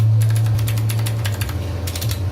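Numpad keys on a keyboard with Milk White PBT keycaps are tapped in close, crisp clusters of clacks, separated by brief pauses over a constant low background hum.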